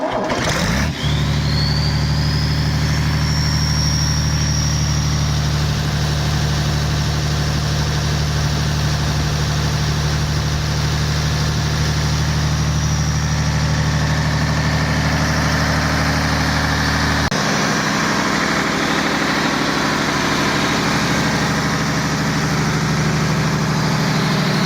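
A 1970s 19.1-liter turbocharged excavator diesel engine idles steadily and loudly close by, a constant low rumble with a turbo whine, dropping slightly in tone near the end.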